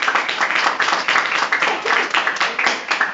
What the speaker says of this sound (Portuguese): As palmas bem alegres para Cristo.